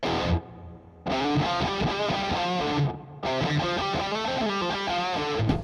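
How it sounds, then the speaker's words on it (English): Electric guitar plays chugging chords with tight, compact distortion, pausing briefly twice, with a subtle reverb tail, the tone made by Positive Grid BIAS X. "it's reduced the distortion even more, made it even tighter. And then it's added a little subtle reverb."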